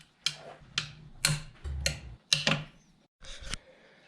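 A small ratchet clicks in short bursts while removing bolts on a Renault Clio RS 197 during fuel injector work, with about seven close, distinct ratcheting bursts separated by brief pauses.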